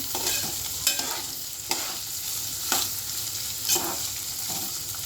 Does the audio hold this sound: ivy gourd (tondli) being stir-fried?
yes